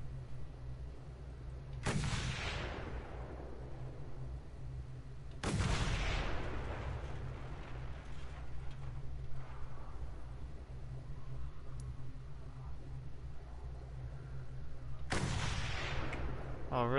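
Gunfire in the PS4 video game Mad Max: three sharp, loud shots with decaying tails, spaced irregularly over a low background hum.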